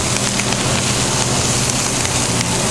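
Kale crackles in butter and oil in a hot pan: a dense, steady sizzle of tiny pops close up, unbroken and fairly loud for the whole stretch.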